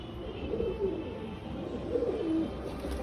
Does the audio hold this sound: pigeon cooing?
yes